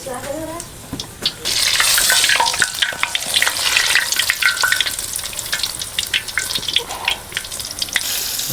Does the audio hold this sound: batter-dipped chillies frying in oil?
yes